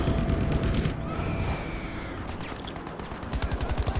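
Dense machine-gun and rifle fire in Battlefield V, played on PS4, with a steady wash of battle noise and a rapid burst of close shots near the end.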